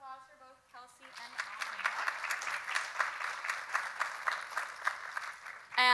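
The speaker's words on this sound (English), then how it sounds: "Another round of applause for both Kelsey and" An audience at a network meeting claps for the speakers, a dense wash of applause that swells and holds for several seconds, with a brief speaking voice at the start and again as it fades.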